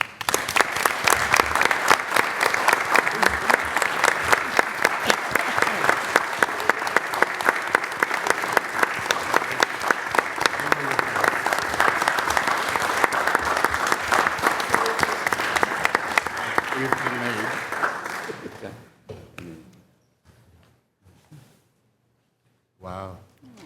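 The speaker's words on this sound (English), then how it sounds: "please give a warm round of applause and welcome Charlotte" A city council meeting audience gives a long round of applause for Charlotte and Justin Mundir. The clapping is loud and sustained for about eighteen seconds, then breaks off into scattered claps and brief voices.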